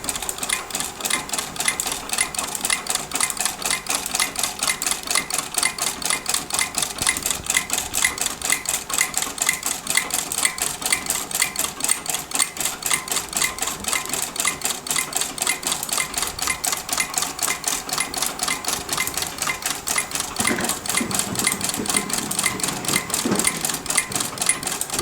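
A sewing machine fitted with a rotary buttonhole attachment stitches steadily for the whole stretch, a fast, even mechanical clatter close by with no talk.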